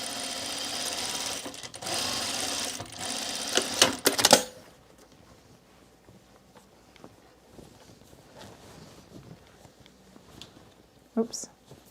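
A sewing machine runs a top stitch on an Azores dress, a loud fast whirring burst for about four seconds that ends abruptly, followed by quiet handling clicks and faint taps.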